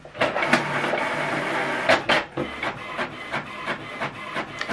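An HP ENVY 6022 inkjet printer prints a page up close, with whirring feed motion and a series of irregular mechanical clunks and rubbing strokes, with no voices.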